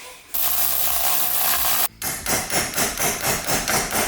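Impact tool hammering on the U-joint bolts of a car. It begins with a continuous buzzing burst, breaks off briefly, then returns as a rapid series of rhythmic pulses, loud and close, with no talking.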